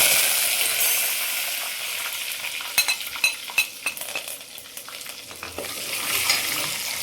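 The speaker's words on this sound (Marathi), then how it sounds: "भरपूर तेल अगदी कडकडीत झालेलं आहे ओवा जिरे हिंग आणि कडीपत्ता मी सगळं एकत्र टाकते आहे" Curry leaves, ajwain, cumin and asafoetida drop into very hot oil and sizzle loudly in a steady hiss. A cluster of crackling pops comes in the middle, heard close with no voices.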